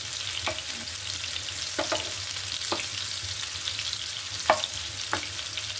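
Bitter gourd stuffed with lentil paste fries in hot oil in a pan, a steady close sizzle broken by a few sharp crackles and stirring scrapes, with no talking.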